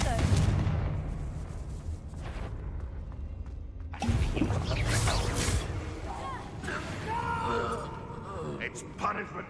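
Confringo fire spell blasts in Hogwarts Legacy, with several loud booming bursts over busy game ambience while a voice speaks over the action.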